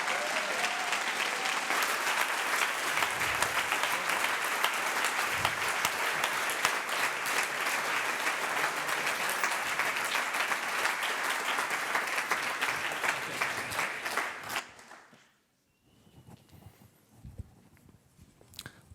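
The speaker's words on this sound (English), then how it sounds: "Let's give our sponsors a round of applause" Loud, dense audience applause at a conference opening rolls on steadily for about fifteen seconds, then fades abruptly into quiet room noise.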